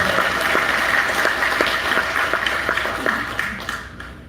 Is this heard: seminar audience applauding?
yes